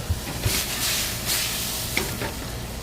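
Red Pinot Noir reducing in a hot pan with black snapper, a steady sizzling hiss with a few soft stirring knocks, close and moderately loud, no talking.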